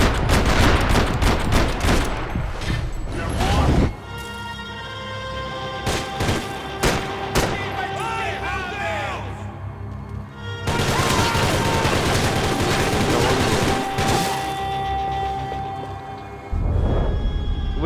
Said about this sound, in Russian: Серьезно, я столько в него выстрелил и не попал?